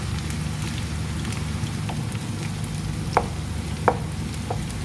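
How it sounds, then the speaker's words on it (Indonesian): Tempeh frying in a small amount of oil in a pan, a steady crackling sizzle with a few sharper pops and spatters near the mic. "Ini sekarang saya akan menggoreng tempe lebih dulu ya. Ini digorengnya tempenya hingga kering."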